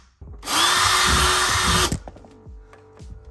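A power drill drives screws to mount AC Infinity cooling fans for a game console, whirring loud and steady for about a second and a half before stopping, followed by light clicks and handling noises.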